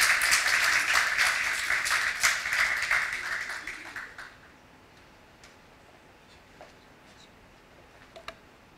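Applause from an audience at a sustainability summit, close clapping for about four seconds that fades out and leaves near silence with a few faint taps.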